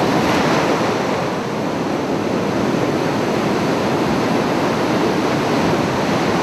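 Sea waves roar on a beach shore as a loud, continuous broadband wash of surf with steady wind noise, unbroken for several seconds and with no voices.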